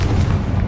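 The Confringo explosive spell goes off in Hogwarts Legacy as a short, loud, low booming blast with a rumbling body, heard alone.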